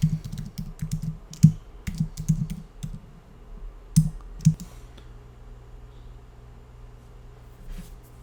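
Username being typed on a computer keyboard for a laptop login, a quick run of clicky keystrokes followed by a couple of louder isolated presses, then near silence with a faint hum, close and without any speech.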